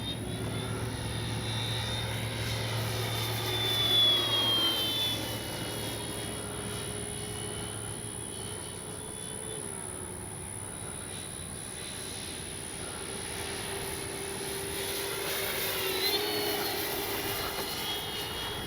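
A radio-controlled FMS 1400mm F4U Corsair warbird model plane flying on a windy day, its propeller motor giving a steady whine that swells and fades a little as it passes, heard continuously at moderate distance.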